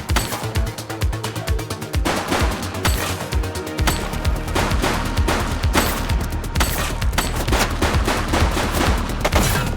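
Rapid bursts of gunfire in The Precinct, a police video game: sharp, loud, closely spaced shots and automatic volleys that repeat in clusters over music and game sounds, with hardly any pause.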